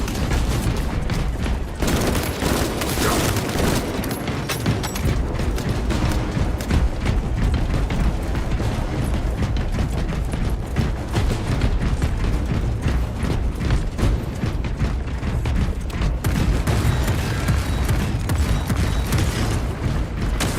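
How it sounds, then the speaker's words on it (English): A shock grenade goes off amid dense, continuous gunfire and clattering mechanical battle noise in Warhammer Space Marine 2, loud and unbroken for about twenty seconds. "Deploying shock grenade!"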